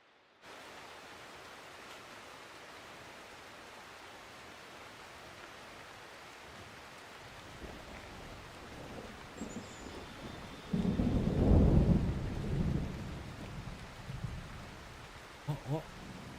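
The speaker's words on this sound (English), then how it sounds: "please stop raining so I can hear what's coming" Rain and thunder in the survival game SCUM: a steady hiss of rainfall throughout, swelling midway into a deep, loud thunder rumble that rolls on for several seconds before easing, with a few softer crackles near the end.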